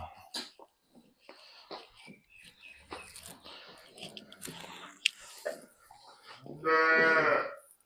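A loud, drawn-out low from a Nili-Ravi water buffalo bellows near the end, following scattered talk and handling noises.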